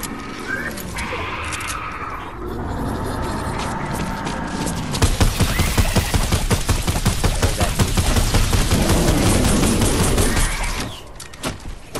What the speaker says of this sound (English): Oh god, I hear gunfire.